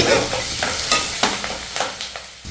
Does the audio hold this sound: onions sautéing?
yes